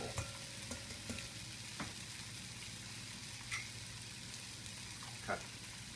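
Vegetables frying in a pan over medium heat, a steady close sizzle and crackle with scattered small pops and occasional stirring clicks, no talking.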